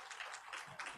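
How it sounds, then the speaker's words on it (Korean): A church congregation claps for standing children during a Sunday service, a soft, even wash of applause heard from a distance with no pauses. "우리 좀 격려의 박수를 보내주면 좋을 것 같습니다"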